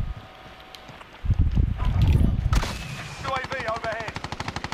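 Rapid gunfire crackles in the video game Warzone, likely from an M4 rifle: a few scattered shots and a loud burst, then a fast rhythmic volley of automatic fire near the end.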